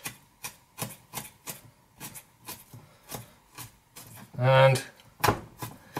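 A knife chops ginger on a board in a steady series of crisp, close taps, roughly a dozen evenly spaced strikes, with a voice briefly speaking partway through.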